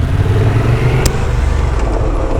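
A Honda XL750 Transalp motorcycle engine idles and rumbles low and steady during off-road riding practice, close by with a brief sharp noise partway through.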